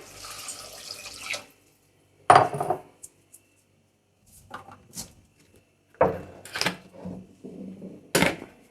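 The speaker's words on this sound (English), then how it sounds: "And from now we're going to add on the water." Well water pours into a soup pot of vegetables and celery for miso soup, with a steady watery rush for the first second or so, then scattered clunks and splashes of kitchen handling.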